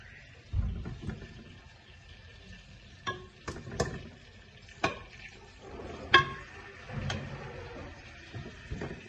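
Trotters (paye) placed into a cooking pot make a scattered series of clunks and taps against the metal over a faint simmering hiss, with no voices.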